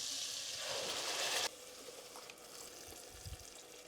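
Loud sizzle and hiss as puree hits hot butter in a pan while a kofta curry cooks, the frying strongest for the first second and a half, then settling into a steadier, quieter bubbling sizzle.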